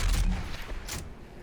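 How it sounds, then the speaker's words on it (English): A super shotgun in the video game Doom Eternal fires with a heavy booming blast up front, followed by a decaying rumble and a second sharp burst, loud and close. "and then you have the super shotgun"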